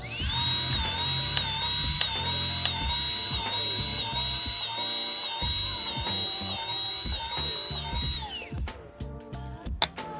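Grease gun pumping into a camper wheel bearing fitting while the wheel is spun, a steady mechanical whir and ratcheting drone with a high whine throughout, ending with a few sharp clicks and clanks.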